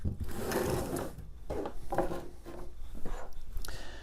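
Close, small clicking and ratcheting as the knob of a tubing cutter is turned to snug it onto copper plumbing pipe, in uneven bursts without talk.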